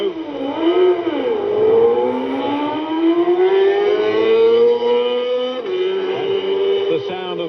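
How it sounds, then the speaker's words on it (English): The AWB Engineering Honda DDM sidecar launches from the TT race start, its engine rising in a loud, wailing rev that climbs steadily in pitch, shifts once, then keeps pulling, heard close and without talk. "That's the sound of the AWB Engineering Honda DDM."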